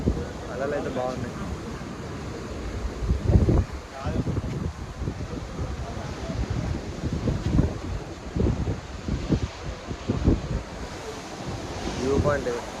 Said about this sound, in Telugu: అలలు అయితే బాగున్నాయి.